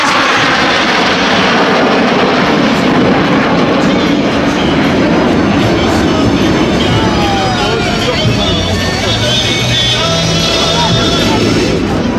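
Jet noise from a Rafale and the Patrouille de France passing over a semi-night airshow at Cambrai, a loud continuous broadband roar filling the whole stretch, with a commentator's voice carried over it.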